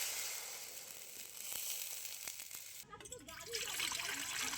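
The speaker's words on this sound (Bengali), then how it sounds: "এবার আমি একই কড়াইয়ের মধ্যে দিয়ে দিচ্ছি জল পরিমাণ মতো।" Water poured into a hot kadai of fried garlic, onion and dried red chillies, a continuous hissing sizzle that surges into a louder bubbling gush midway, close and alone.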